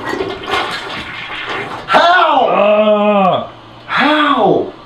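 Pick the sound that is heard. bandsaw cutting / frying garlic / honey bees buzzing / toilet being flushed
toilet being flushed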